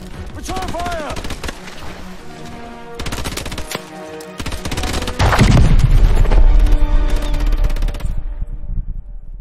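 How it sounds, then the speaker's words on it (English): Gunfire in the combat game Call of Duty: Advanced Warfare. Bursts of automatic weapons and single shots ring out over clanking, then a heavy boom and rumbling explosion swells midway, followed by sustained chaotic firing. "Return fire!"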